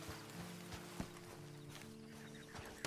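Horse hooves clip-clop at a walk in the video game Red Dead Redemption 2 Online, quiet and fairly regular, over a low steady tonal hum.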